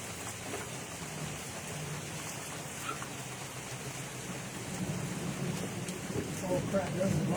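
Rain falls steadily outdoors while someone paints a grove of trees, making a dense, even patter. The wash grows a little louder toward the end, and faint low rumbles sit underneath.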